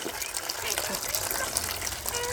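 Water pours from a tap as a steady, broad splashing rush, moderately close, with a person talking over it throughout.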